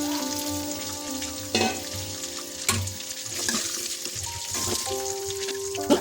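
Chicken pieces frying in a wok, a continuous crackling sizzle close at hand, broken by a few sharp scrapes and clinks of stirring, with no voices.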